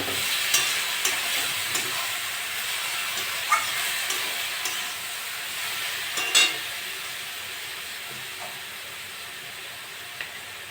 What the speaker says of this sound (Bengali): আমি এবার চাল কুমড়োগুলো দিয়ে দিই।